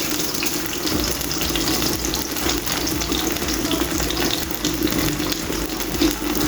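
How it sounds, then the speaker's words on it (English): Pieces of fish fillet fry in a pan, giving a steady, fairly loud sizzle and hiss that runs without a break and stays close, with no talking over it. "So now I'm gonna fry 2 pieces at a time because I only have 4 pieces."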